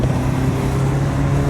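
A 1996 BMW 318ci on the move, its engine giving a steady, loud low hum and road rumble from inside the cabin for a brief stretch, with no talk.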